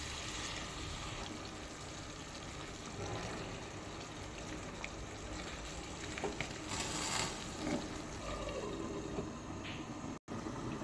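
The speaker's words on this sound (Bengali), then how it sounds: "এ পর্যায়ে পানি অ্যাড করবেন।" Water added to a chicken curry in a pan, with oil risen to the surface, makes a faint, continuous hiss and bubble, and a brief dropout comes near the end.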